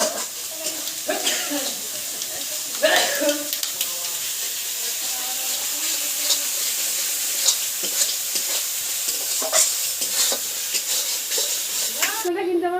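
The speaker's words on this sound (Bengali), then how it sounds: "মশলাটা এবার কিন্তু আমি ভালো করে একটু কষে নেব" Spice paste is stir-fried in a pan for a crab and Malabar spinach dish, with a sustained sizzle and repeated scraping stirs of the spatula, close and busy, and occasional talk underneath.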